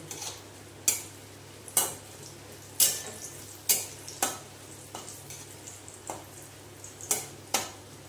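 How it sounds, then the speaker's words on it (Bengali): Yardlong beans fry in hot oil for a potato-and-bean curry, a steady sizzle broken by about ten sharp scraping stirs spaced roughly a second apart, close and moderately loud. "এই যে আমার বরবটি ভাজা প্রায় হয়ে এসছে"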